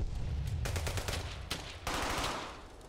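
Rapid bursts of gunfire in Brothers in Arms: Hell's Highway, a quick rattling string of shots followed by a louder crack and a longer echoing burst, moderately loud with no talk.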